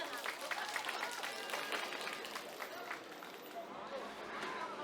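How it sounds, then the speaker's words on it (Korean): A crowd at an outdoor political rally applauds a speaker being introduced, faint and distant clapping blended with a murmur of voices. "큰 박수 부탁드리겠습니다."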